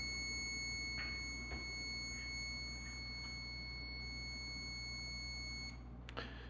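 A Tactical Traps fingerprint lock emits a steady electronic tone broken by a few faint intermittent beeps, low in level, ending with a short sharp click and chirp.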